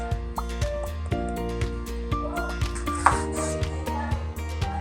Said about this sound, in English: So we're gonna cut up the sweet pepper and stuff to put it in the frying pan.